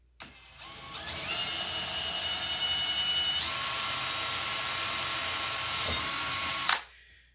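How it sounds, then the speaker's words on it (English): A power drill whirs steadily for several seconds, its pitch stepping up partway through, before revving briefly and cutting off. "We'll drill another hole."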